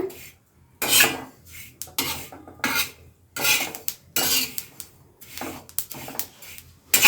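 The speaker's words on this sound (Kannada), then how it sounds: "ನೋಡಿ ಹೀಗೆ ನಿಧಾನಕ್ಕೆ ನಾನು ಈ ಥರ ಹುರ್ಕೊಳ್ತಾ ಇದ್ದೀನಿ ಎಳ್ಳನ್ನು" Sesame seeds dry-roasting in a pan are stirred in repeated bursts of gritty scraping and rattling. Each stroke is loud and close, with brief pauses between.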